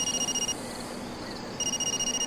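A phone ringing in the video game Far Cry 2, an electronic trilling ring pulsing rapidly before and after a short pause, steady and clear with no talk over it.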